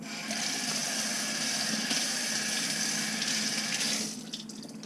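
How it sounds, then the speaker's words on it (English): Tap water runs steadily over cilantro being rinsed in a sink, a close, continuous broadband splash that holds level for about four seconds before cutting off. "I'm just gonna rinse it first because you don't never know"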